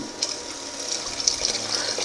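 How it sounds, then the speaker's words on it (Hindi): Water poured into a pot of whole masoor lentil curry after the masala has been sautéed, a soft steady splashing trickle close by, fairly quiet and uninterrupted, with no voices. "अब हम इसमें पानी ऐड कर देंगे।"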